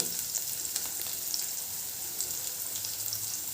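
Green chillies fry in oil with a soft, steady sizzle, faint and continuous, with light crackling spits scattered throughout.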